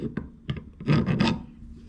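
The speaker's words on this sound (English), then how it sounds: "I'm just going to use a file just to take any burrs off." Metal file deburring a steering head part from a Yamaha MT07 Tracer, several short rasping strokes up close, the last two longer and louder, with no talking.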